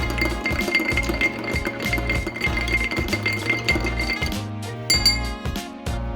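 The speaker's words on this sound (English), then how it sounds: "Give it a stir with your bar spoon." A bar spoon stirs a large rock of ice in an Old Fashioned glass, giving repeated bright clinks in a steady rhythm over a continuous low musical backing.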